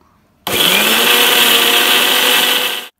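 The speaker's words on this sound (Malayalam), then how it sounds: "ഈ മിക്സി പാത്രം ചെറുതാകൊണ്ട് ഞാൻ രണ്ട് ട്രിപ്പായിട്ടാണ് കേട്ടോ അരച്ചത്" A small mixer grinder jar grinding roasted coconut and onion chutney, a loud close motor whine that starts abruptly, holds steady for about two and a half seconds, then cuts off, with no talk.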